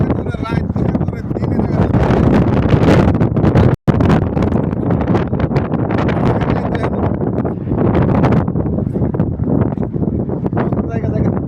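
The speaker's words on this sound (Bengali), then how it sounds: "সমুদ্রে অনেক ঢেউ বর্তমানে, অনেক বাতাস, প্রচুর বাতাস সমুদ্রে" Strong wind buffets the microphone at the seashore of a coastal park in Jubail, Saudi Arabia, a loud, continuous roar with gusty surges, while a person talks over it.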